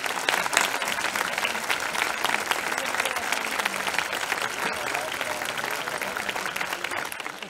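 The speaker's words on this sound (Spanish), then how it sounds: "por favor quiero que lo reciban con un gran aplauso" A large audience at an evening summer festival event in a town applauds warmly, a dense, continuous wash of clapping with brief bursts, somewhat distant, with a murmur of voices mixed in.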